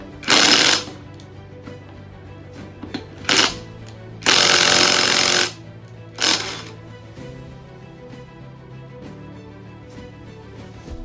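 Impact wrench working on the flywheel bolts of a K24 engine, several short loud rattling bursts and one longer burst of about a second, close up with quiet gaps between.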